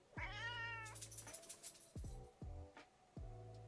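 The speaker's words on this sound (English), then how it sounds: "Now Oliver's growling at Heidi" Indoor cats make low growling and moaning vocalizations, several drawn-out rising calls in a row, close and fairly quiet.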